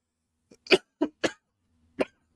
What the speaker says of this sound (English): That can't be pleasant listening to me cough into a mic.